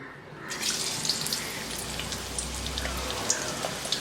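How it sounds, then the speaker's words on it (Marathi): Chopped onion drops into hot coconut oil in a kadai on a gas stove and sizzles right away with a steady, crackling hiss that continues to the end. "तेल गरम झालंय आता हे कापल्याला कांदा घालू"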